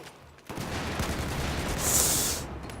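Hip-fired rifle rounds rattle out in Battlefield 4, a dense, close volley of quick shots starting abruptly and continuing steadily with a bright hiss rising near the end.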